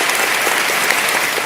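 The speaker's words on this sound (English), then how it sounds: "Hand clapping in the studio." Steady hand clapping fills a studio, a dense continuous patter of many claps at even loudness throughout, with no voices over it.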